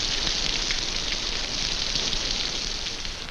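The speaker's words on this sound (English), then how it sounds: "Even the rain works for them, filling open containers with good drinking water." Rain falls in a tropical jungle in a 1944 wartime survival film, a dense, even hiss of drops that stays constant and fairly loud throughout, with no voices.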